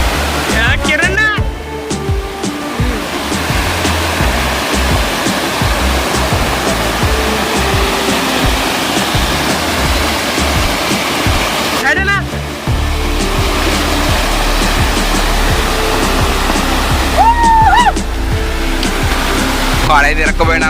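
Rushing water from small mini waterfalls plays steadily and loudly as a continuous broadband wash, with brief voices and shouts breaking in now and then.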